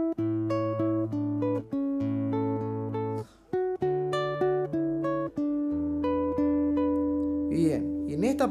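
Guitar playing a phrase of a song in a tutorial, with a bass note on the sixth string. Clear, close plucked notes and sustained bass tones follow one another, ending with a brief slide.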